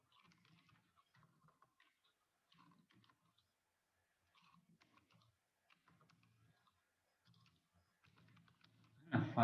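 Computer keys tapped in short, quiet bursts during spreadsheet data entry in Excel, with pauses between runs and a louder clatter at the very end.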